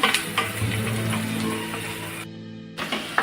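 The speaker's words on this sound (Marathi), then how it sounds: "हा कांदा आपल्याला व्यवस्थित असा शिजून घ्यायचा आहे अगदी गोल्डन होईपर्यंत" Chopped onion frying in a pan for a Maharashtrian radish vegetable dish, a steady close sizzle with stirring scrapes and a brief quiet gap before the frying resumes.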